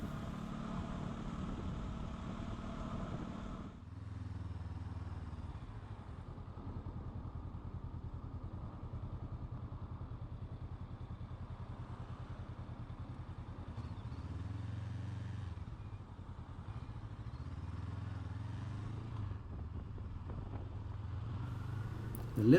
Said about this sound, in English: Its punchy little motor gets you away from the lights really well.